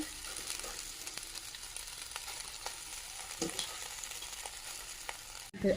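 Leafy greens frying in a pan with onion, garlic and dried chilli give a steady, close sizzle with scattered stirring clicks and a sharper clatter near the end, no talking.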